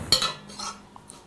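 A metal spoon clinks and scrapes inside a pot of basil and mint compote a couple of times, brief and close.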